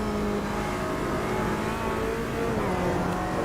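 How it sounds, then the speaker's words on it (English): A GT race car engine revs high and steadily in Automobilista 2 during a GT3 and GT4 test, with a loud, continuous engine drone and rising harmonic pitch throughout. "The car sounds pretty cool."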